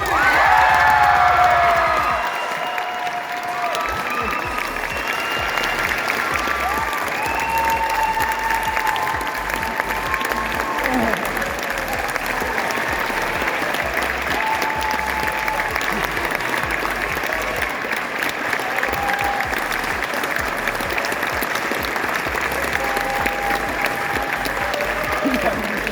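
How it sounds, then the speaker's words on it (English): Audience at a Southwest Baptist University Mr & Miss Southwest pageant applauding and cheering for Miss Southwest, sustained loud clapping with whoops and shouts throughout, voices mixed in the crowd. "Let's give them one more round of applause."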